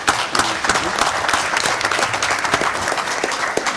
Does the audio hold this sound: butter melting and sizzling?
no